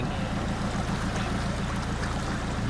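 Floodwater in Khon Kaen flows steadily through a washed-out channel, a continuous rushing, gurgling wash with no pauses, close and fairly loud.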